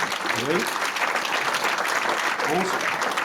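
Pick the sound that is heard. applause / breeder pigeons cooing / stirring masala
applause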